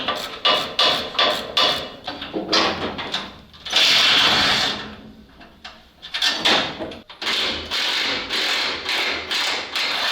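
A ratchet wrench clicks rapidly in quick repeated bursts while spare wheel bracket bolts are loosened on a ZIL 131 truck, close and loud, with metallic knocks and a longer grinding stretch in between.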